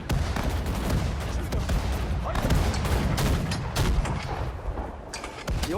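Soldiers' gunfire in the war strategy game Sudden Strike 4 on a Singapore map, dense bursts of rifle and machine-gun shots with heavy booms, loud and continuous, while someone talks over it.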